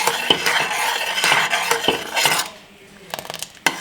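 Close, busy scraping and clinking of a spoon against the bottom of a pot as custard milk with cornflour is stirred steadily to keep it from sticking, followed by a quieter gap and a few last taps.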